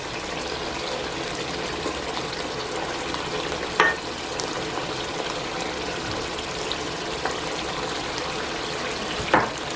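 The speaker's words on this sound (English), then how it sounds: "Now I'm going to be adding the puree tomato." Tomato puree hits a hot cooking pan and sizzles in a steady, close frying hiss, with a couple of brief clinks from a utensil.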